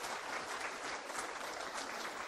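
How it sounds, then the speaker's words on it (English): An audience at a science meeting's poster session claps steadily, a dense and even burst of many hands heard from a moderate distance, without speech. "perhaps we can have some applause, the people who organized this poster session"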